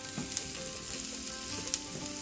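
Tempering for lime rice sizzling in hot oil, a steady close crackle with a few sharper pops scattered through, no voices.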